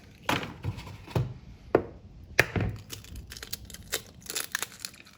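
Eggs are cracked for Swedish meatballs: sharp, close taps and cracks with crinkly shell sounds, several brief hits spread unevenly in a quiet kitchen.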